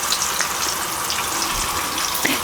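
Soutzoukia sausages sizzle in a frying pan with a close, constant crackling hiss, broken by a few sharper pops of spitting fat near the end.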